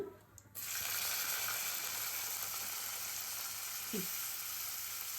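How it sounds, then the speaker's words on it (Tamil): Mustard seeds splutter and crackle in hot oil as tempering for a prawn thokku, a steady loud sizzle filling the pan after a brief quieter start, with a couple of sharper pops near the end. "நல்லா பொரியட்டும் நல்லா என்ன பொரிக்கணும் கடுகு"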